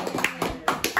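A few separate hand claps in an indoor lesson setting, five or six sharp slaps spaced irregularly over a second, close and fairly clear.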